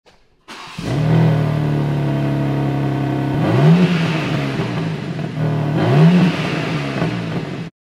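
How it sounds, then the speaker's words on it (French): BMW M3 engine on its stock exhaust, idling with a steady hum and then revved twice in quick rising-and-falling swells, loud and close. "je ne pense pas que je serais aussi déçu si j'achetais une BMW M3 toute neuve et qu'elle sonnait comme ça"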